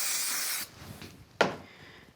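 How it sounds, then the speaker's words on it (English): Spray glue hisses onto a piece of black card in a steady burst of about half a second, followed by a faint rub and a second short, sharp spray. "So I'll just use a little bit of spray glue."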